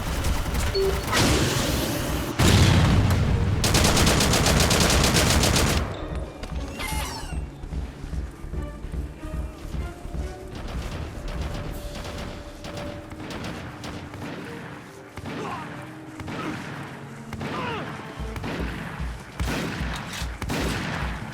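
Gunfire in the Haze video game: a dense, loud burst of rapid shots at first, then continued crackling fire and mechanical clatter throughout.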